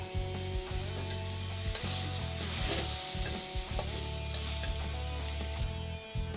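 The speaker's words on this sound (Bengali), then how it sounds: "পরিমাণ মতো নুন হলুদ দিয়ে ভেজে নামিয়ে নেব চিচিংড়াটা প্রায় হয়ে এসেছে আর একটু নেড়েই নামিয়ে নেব" Snake gourd stir-fried with salt and turmeric sizzles steadily in a hot pan, with a continuous frying hiss broken by repeated stirring scrapes and clinks throughout, with no talking.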